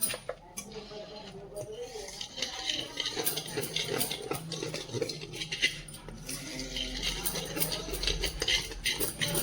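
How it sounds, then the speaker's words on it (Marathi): A spoon clinks and scrapes around a bowl while green chutney with salt and green chillies gets mixed, with irregular taps and stirring scrapes throughout, under a voice talking. "मी आता याला पूर्णपणे असं मिक्स करून घ्यायचं आहे"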